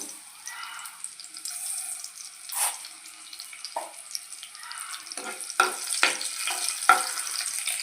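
Garlic frying in hot oil for a Telugu amaranth and coconut fry, a soft hiss rising and falling with occasional louder bursts of spattering and stirring near the end, close up, no talking.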